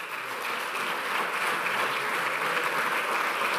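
Steady applause from an audience welcoming basketball player Darío Brizuela at a presentation of new FC Barcelona signings, a dense even wash of clapping that carries on without a break and with no voices over it.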